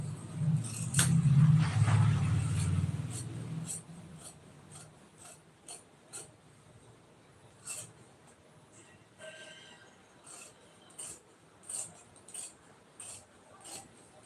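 Tailoring scissors cut fabric pieces in a live sewing session, giving repeated sharp clicking snips at a steady rhythm after an opening stretch of low rumbling, fairly close and without talk.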